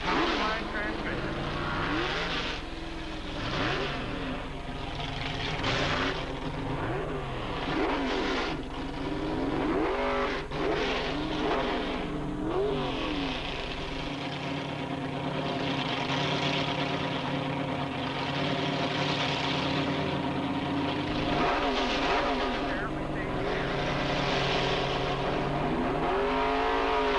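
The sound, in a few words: dragster race cars at Edinburg International Dragway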